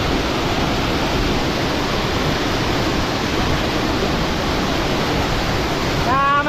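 Waterfall at Sankhay Dhunga in Chamong, a steady loud roar of falling water filling the whole clip, close by, with a brief faint whistle-like sound near the end.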